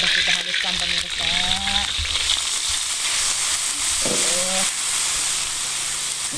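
Ground spice paste for seblak sautéing in hot oil, a strong hissing sizzle that runs throughout, close and steady, while voices talk over it in short bursts.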